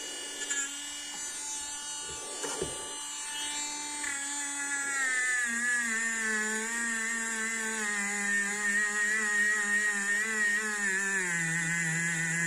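A cordless mini rotary tool from AliExpress, powered by an 18650 battery, runs with a high, steady whine whose pitch dips and wavers as it is loaded, sounding close and continuous after a brief start-up.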